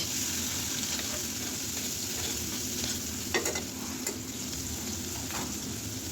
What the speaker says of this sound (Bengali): পেঁয়াজ আর মরিচটা নেড়ে চেড়ে কিছুক্ষণ খুব ভালো করে ভেজে নিয়েছি